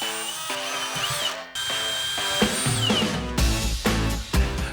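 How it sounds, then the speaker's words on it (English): A power tool bores 2-inch holes through a desk, with a loud close whine that drops out for a moment and then restarts, followed by a few harsher grinding bursts as it cuts through. "I cut some 2-inch holes near the monitor mounts and another one nice and tight to the underside of the desk"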